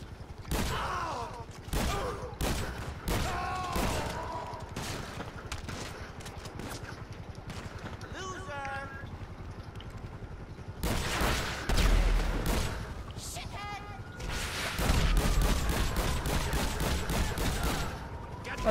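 Gunfire in GTA 5 Online during a shootout with police at a store: repeated loud bursts and volleys, with a few voices talking in between.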